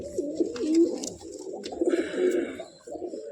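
Pigeons kept in a coop, including a pair of black-eyed birds, coo in soft, repeated throaty warbles that ripple continuously at close range, with no talking.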